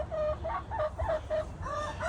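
Chickens in a farm coop cluck and squawk in a steady chatter of short, tonal calls, close by with no talking.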